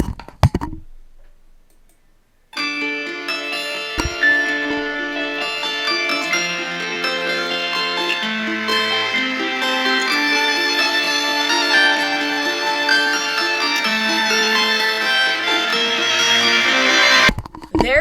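A song played back with its pitch raised by about 65% in Audacity, from E up to G, a bright, dense tonal stream lasting about fifteen seconds after a short quiet lead-in.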